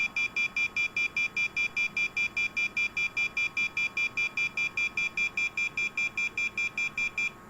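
Emergency alarm buzzer of a COVID-19 ward monitoring system sounding alone as a steady rapid train of loud, even electronic beeps, pulsing several times per second throughout.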